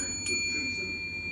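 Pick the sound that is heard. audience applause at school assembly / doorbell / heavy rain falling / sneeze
doorbell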